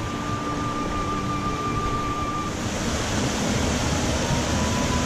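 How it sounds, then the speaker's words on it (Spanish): Mountain torrent at Barranc de Biniaraix rushing hard down a rocky ravine, a loud, unbroken broadband roar of churning water heard close up with no talk. "El barranco es torrente que baja a tope."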